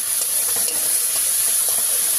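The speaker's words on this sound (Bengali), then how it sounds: "এখন আমি দিয়ে দেব টমেটোটা, এটাও তেলটা ফ্রাই করে নেই" Tomato frying in hot oil in a pan while a Bengali fish curry is cooked, giving a steady, dense sizzle that stays close and loud throughout, with no one speaking.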